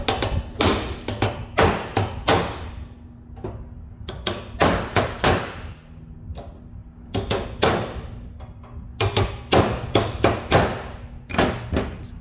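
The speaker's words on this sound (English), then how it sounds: "It is a panel beating hammer, but it had a hard life and I use it as a normal hammer." Sharp metallic hammer blows from a worn panel beating hammer ring out in quick clusters of several strikes on car sill metal, pausing briefly between bursts, close and loud.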